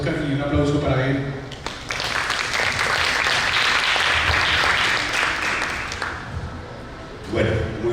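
An audience at a Cinexcusa 2018 talk on the peace agreement bursts into loud, dense applause lasting several seconds, with a voice speaking briefly before and after.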